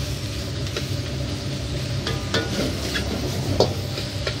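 Onions stir-frying in a very hot wok for Sichuan jjajang, with a steady loud sizzle and intermittent scraping clicks of a spatula against the metal as the pan is worked, no voices.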